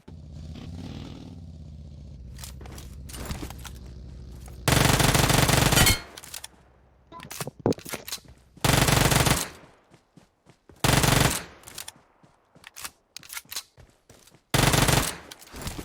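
Automatic gunfire in the mobile battle royale game PUBG Mobile, several loud, dense bursts of about a second each, separated by quieter gaps with scattered single shots and clatter.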